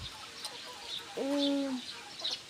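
A bird call, likely from a hen among a small flock of backyard chickens, a special egg-hatched breed including a white naked-neck. One short, clear tonal call stands out midway over a faint, quiet background.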